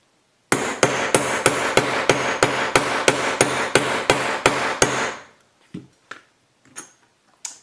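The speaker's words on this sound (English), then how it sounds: "get my weighted rawhide mallet and hammer." Rapid, evenly spaced heavy thuds of a weighted rawhide mallet striking a metal ring and hoop press, about fifteen blows, followed by a few scattered softer knocks.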